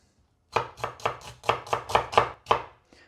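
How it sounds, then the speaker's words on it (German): Knife chopping a vegetable onion on a board, eight crisp rhythmic cuts in quick succession followed by a faint final tap, close and clear with no talk. "jetzt schneide ich die Gemüsezwiebel"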